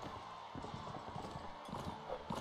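Horse hooves clip-clop steadily in the medieval combat game Mount & Blade: Warband, a rapid, fairly even gallop rhythm heard close over a dense background of game noise.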